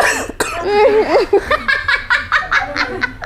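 A sharp cough bursts out close by, followed by vocal sounds and a run of short, rhythmic bursts that resemble laughter.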